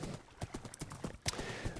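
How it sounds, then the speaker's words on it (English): Quick, rhythmic hoof clip-clops of a fast horse trotting in the video game Minecraft, fairly faint and steady with no voices. "He's a fast horse. He's pretty quick."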